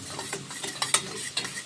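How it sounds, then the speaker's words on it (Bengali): A tomato sauce mixture for chicken chatpata is stirred in a pan, with soft scraping strokes over a faint sizzle. The sound is close and fairly quiet, with no voices. "এবার এটাকে ভালো করে মিশিয়ে নিই"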